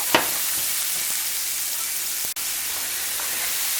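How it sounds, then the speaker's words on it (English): Chopped onions cook gently in butter over low heat, giving a soft, steady hiss with a couple of faint clicks from stirring. "Just gonna stir these onions up. Just cook them on low."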